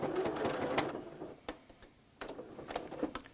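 Sewing machine stitching a fabric potholder, a few short bursts of close mechanical whirring and clicking separated by quiet gaps, fairly faint.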